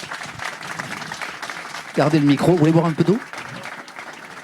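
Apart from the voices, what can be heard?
audience applause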